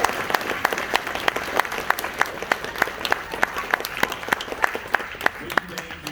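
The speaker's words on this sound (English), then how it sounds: "can I please get a huge round of applause for our 3 teams?" A crowd at a game jam event claps enthusiastically, sharp individual claps standing out over a steady wash of applause that carries on for several seconds.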